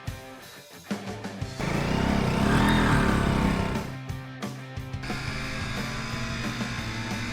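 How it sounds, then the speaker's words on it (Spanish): Bajaj Pulsar NS200 Fi 2022 motorcycle with ABS on a test ride, its engine building to a steady louder drone mid-clip with mechanical clicks and gear-change sounds around it, then settling into a continuous running hum. "Ahora sí nos vamos a la prueba de manejo de esta motico."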